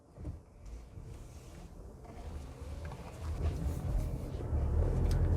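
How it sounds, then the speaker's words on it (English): A 2020 Toyota RAV4 Hybrid's petrol engine starts up while driving at about 30 km/h, a low engine rumble and road noise swelling gradually from quiet to a steady drone inside the cabin. "The petrol motor's just kicked in then at about 30 kilometers an hour."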